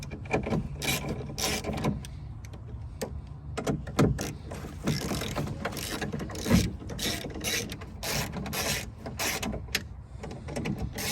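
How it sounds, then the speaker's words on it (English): Ratchet tightening bolts on the power window motor of a 2003–2009 Hummer, a dense run of rapid clicking strokes with a few louder knocks, close and steady throughout, no talking. "So we're going to make sure that we tighten it now."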